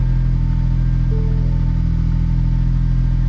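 A 2019 Ford Ranger engine idles steadily after an alternator replacement, with a constant loud mechanical hum and no talking.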